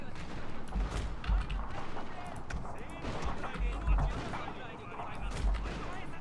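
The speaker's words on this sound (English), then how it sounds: "I'm going to let my matchlocks open fire here." Matchlock gunfire volleys crackle in a Total War: Shogun 2 battle, with repeated bursts of shots layered over a dense, rumbling din of combat that carries on steadily throughout.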